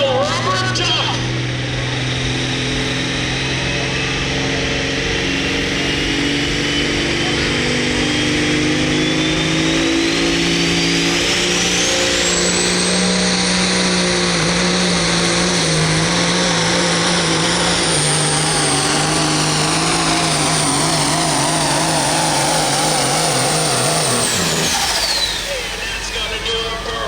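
A modified pulling truck nicknamed the rubber duck runs at a truck and tractor pull at a county fair in Old Washington, Ohio. The engine roars loud and sustained, its pitch climbing steadily for over twenty seconds before cutting off sharply near the end.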